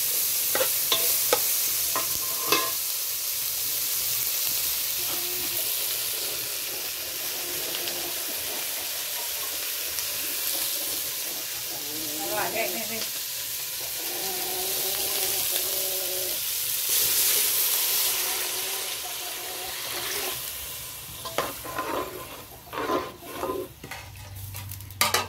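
Garlic, onion, bell pepper and tomato fry with cumin in a pan, giving a steady sizzle and hiss with bursts of stirring and utensil scrapes, close and continuous.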